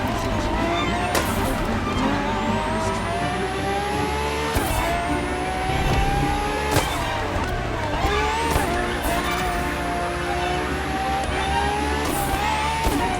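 Ferrari FXX K supercar, a lab-enhanced LaFerrari, in the racing game The Crew Motorfest, its engine droning steadily close by with rising gear sweeps and several sharp shift breaks throughout.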